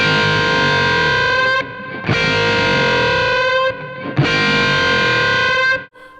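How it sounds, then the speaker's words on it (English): Distorted electric guitar playing unison bends through an amp, three long sustained dissonant bends, each held about two seconds with brief gaps, loud and close with no talking. "each one of these unison bends has a different sound and a different feel"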